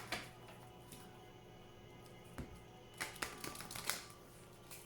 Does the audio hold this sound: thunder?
no